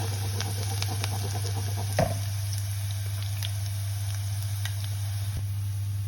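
Garlic sizzling steadily in hot oil while frying for moong dal shaak, a soft continuous crackle with one brief clatter near the start and no voices.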